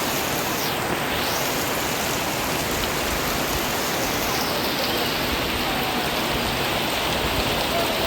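Heavy monsoon-style rain pours down outside a house in the morning, a dense, even hiss of water on surfaces that stays steady and loud throughout, with no voices.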